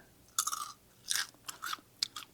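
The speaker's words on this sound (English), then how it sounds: "These chips are very crunchy." Crunchy baked tortilla chips on a warm taco casserole being bitten and chewed, four or five crisp crunches close to the ear in a quiet kitchen.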